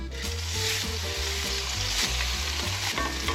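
Crappie fish fry in hot tallow in a cast iron skillet, a loud, dense, continuous sizzle close up, with a low rhythmic musical bed running beneath it.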